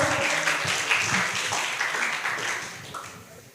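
Audience clapping for a student presidential candidate pair at a university debate, a steady wash of applause from a crowd that tapers off toward the end, fairly faint overall.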